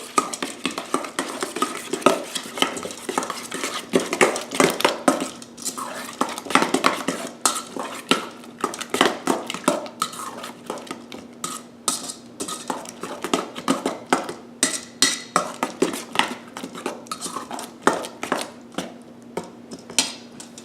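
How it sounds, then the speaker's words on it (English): A spoon stirs tartar sauce mixed with horseradish in a bowl, making rapid repeated clinks and scrapes against the dish, steady and close, with no talking. "1 tablespoon of horseradish. Now you stir it all together."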